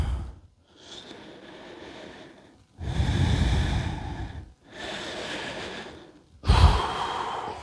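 Heavy breathing after a strength and conditioning workout, slow deep breaths in and out alternating in long rhythmic swells, close and fairly loud, with a sharp gasping inhale near the end.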